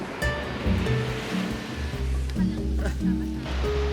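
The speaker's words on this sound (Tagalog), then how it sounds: "Nasa Puka Beach kami guys, malakas yung alon pero maganda pa rin." Strong waves at Puka Beach in Boracay, a continuous rush of surf close by, with music playing over the water sound.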